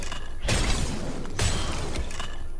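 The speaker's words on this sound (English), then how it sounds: "Smashing up people's graves." Graves being smashed in Diablo III: Reaper of Souls at the training grounds of the Scorched Chapel, with loud crunching, shattering impacts in two heavy bursts over steady background game sound, no talk.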